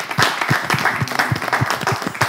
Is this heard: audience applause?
yes